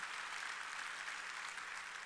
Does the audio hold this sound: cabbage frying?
no